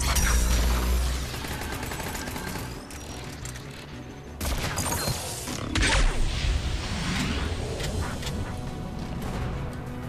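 Rapid gunfire in the video game Mass Effect 3, dense bursts of shots with metallic mechanism clatter and crashing impacts, loud and continuous, briefly dipping before the firing surges again.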